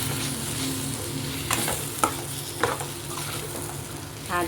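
Homemade pasta is stir-fried in a pan with soy sauce, a constant loud sizzle with occasional utensil scrapes and taps against the pan, and no speech.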